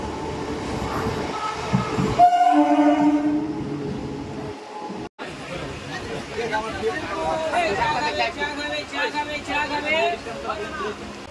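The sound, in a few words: local train arriving at Mecheda station platform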